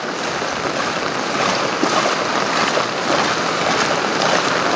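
Typhoon floodwater surging into a property, a constant loud wash of rushing water with gusty wind noise over it, unbroken throughout.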